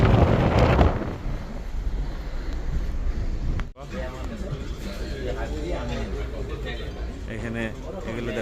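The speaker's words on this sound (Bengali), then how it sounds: "বাতাস আর বাতাস দেখেন আপনারা।" Strong wind buffeting on the open upper deck of a Viking Line ship bound for Estonia: loud, roaring gusts pounding the microphone throughout, with voices talking underneath.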